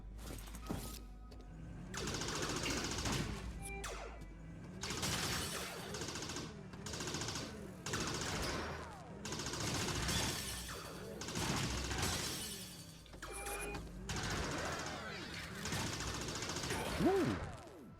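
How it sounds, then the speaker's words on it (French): Rapid automatic gunfire from a machine gun in the space shooter game Bears in Space, dense repeated bursts running loud and steady throughout with short breaks between volleys. "On va tester la mitrailleuse."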